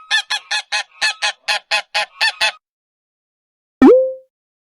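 Goose honking in a farm-animal setting: a quick run of about ten evenly spaced, loud honks, then a pause and one final sharp honk standing alone.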